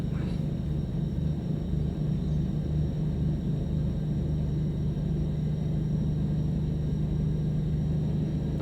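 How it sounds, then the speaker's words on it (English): A passing train in Train Sim World 4 on the Hamburg–Lübeck line, a steady deep rumble with a low droning hum that holds evenly throughout, with no speech. "That's the other train. Listen to it going again."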